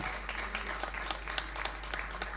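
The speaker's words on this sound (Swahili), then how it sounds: "Naomba makofi kwa Mheshimiwa Simai." A tourism summit audience in Zanzibar claps for the tourism minister, a fairly faint, steady patter of applause with scattered sharper claps over a low hum.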